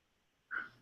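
A single short, sharp sneeze in a quiet classroom during a statistics lesson, one abrupt burst that fades quickly.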